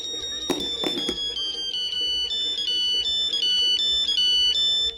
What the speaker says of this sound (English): the ringtone is coming from Big Yellow himself